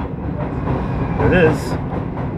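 At night, the Amtrak Adirondack passenger train, number 695, rolls past with a continuous low rumble and a brief rising squeal midway, while a person speaks over the noise.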